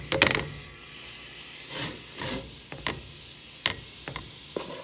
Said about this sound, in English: I like to take a fork and separate the meat with a fork.